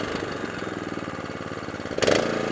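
An Atco 14 SK petrol lawn mower engine runs steadily on its own, then revs up sharply to full throttle near the end, close and fairly loud.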